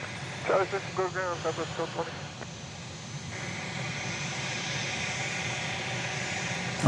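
A trijet airliner at night, its lit cabin passing over a runway area. Brief voices come first, then a steady, broadband engine roar settles in and holds fairly loud to the end.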